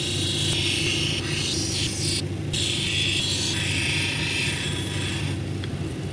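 A labradorite cabochon ground against a 220 grit wheel makes a steady, loud mechanical whir with a rasping, gritty texture, running continuously with no voices.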